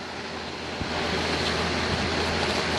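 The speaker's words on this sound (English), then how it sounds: "I have a Lasco box fan. It's running at 2500 RPM." A Lasco box fan running at 2500 RPM with its inlet blocked by a plastic trash bag gives off a steady, dense broadband whoosh, close and constant with no pauses or voices.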